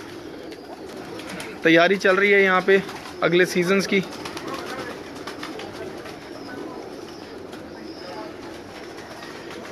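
Pigeons in a rooftop loft coo softly and steadily in the background, while someone speaks briefly near the start over the birds.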